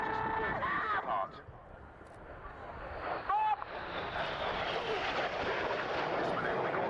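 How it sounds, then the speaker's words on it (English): Red Arrows jet aircraft passing close at low level during an airshow display, a broad rising roar that swells and holds loud, with a commentator talking over it. "The aircraft is going to pass just 30 meters apart."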